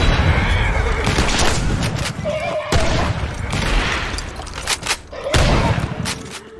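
Gunfire rings out in a Western film scene of bandits attacking a horse-drawn stagecoach, with a few sharp, loud shots cutting through a busy mix of horse sounds and commotion.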